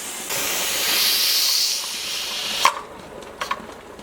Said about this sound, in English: We have a steady airflow coming out of the vent pipe and the air vent has popped up